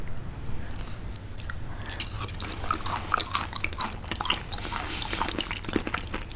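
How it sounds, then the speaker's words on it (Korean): Wet, close chewing and squelching of raw liver dipped in chojang sauce, with sticky bites and crunchy mouth sounds repeating steadily and no talking. "한번 초장에다가 찍어 먹어볼까?"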